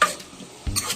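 Onions hit hot oil in a pan with a brief sizzle, then a spoon scrapes and stirs against the metal in a couple of quick, close strokes.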